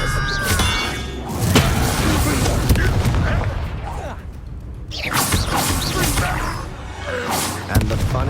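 Bombarda spell blasts in Hogwarts Legacy land as heavy booming thuds and crackling bursts over a dense mechanical rumble, several impacts close together and loud with no pause.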